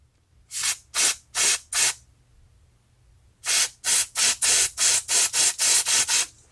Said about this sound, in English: one last spray of this jet